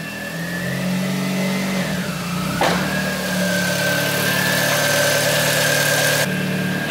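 An Audi S3 with a GTX30 turbo setup runs close by with a steady mid-pitched engine drone, shifting tone after a sharp transient a few seconds in, then holding a strong, even rev with no speech.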